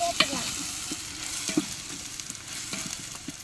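Tomatoes and green chillies sizzle in hot oil for chicken biryani while a spoon stirs them, with scattered scrapes and clicks over a steady frying hiss close by.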